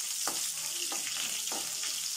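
A tempering of mustard seeds, lentils, cumin and sliced garlic fries in oil with a steady crackling sizzle, broken by about four brisk stirring strokes in the pan.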